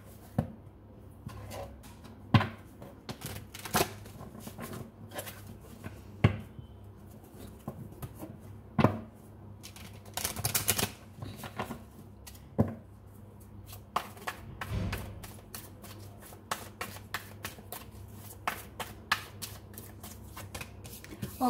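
A deck of tarot cards being shuffled and drawn, soft close riffles and sharp slaps repeating irregularly, with faint low background hum and occasional quiet speech.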